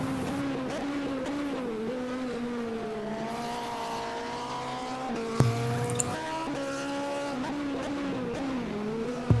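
A Peugeot race car climbs a hill climb course at a European Hill Climb Championship round, its engine droning steadily with shifting pitch as it revs and changes gear. It sits at a moderate distance and is heard with no talk.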